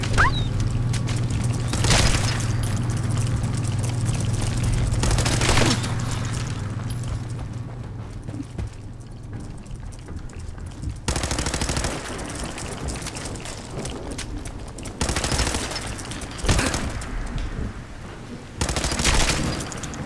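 Gunfire from a weapon in Fallout 4, with repeated bursts of shots and heavy booms spread across the stretch over a constant low game drone.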